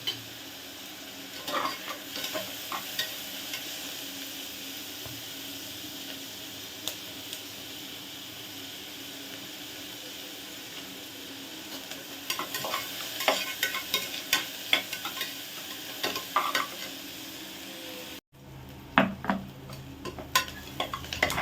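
Onions sautéing in a kadai for homemade paneer gravy give a steady, close sizzle with scraping spoon stirs and occasional pan clinks, and the frying noise drops away sharply near the end.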